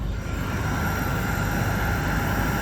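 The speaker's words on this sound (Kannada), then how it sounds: "ಬಸ್ ಮುಂದೆ ಫ್ಲೈಟ್ ಹೋಯ್ತೈತೆ" An airplane passes close by at an airport in Ho Chi Minh City, heard from a bus waiting beside it: a loud, steady engine roar that fills the whole stretch with no voices.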